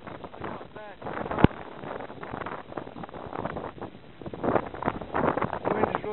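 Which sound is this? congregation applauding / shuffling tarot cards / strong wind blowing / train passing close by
strong wind blowing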